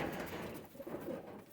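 Pigeon cooing softly in a short, faint low murmur, a couple of gentle coos close by with no talk.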